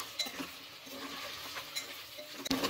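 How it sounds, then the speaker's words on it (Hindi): Mutton pieces fry in hot oil and ghee over a medium-to-high flame, giving a soft, steady sizzle with occasional light clinks and stirring sounds, fairly faint and without talk. "तेल अच्छे से गरम हो जाए तो मटन के पीसेस डाल देंगे और मीडियम टू हाई फ्लेम पर लाइट गोल्डन कलर आने तक फ्राई करेंगे"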